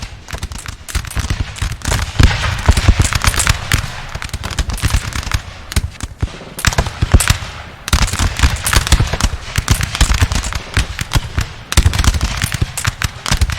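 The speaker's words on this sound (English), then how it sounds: "we'll go back over to where the musket fight is" Massed musket volleys in a Napoleon Total War battle between French and Prussian lines: continuous dense crackling gunfire with sharp overlapping reports, loud and close, swelling and easing in waves for the whole stretch.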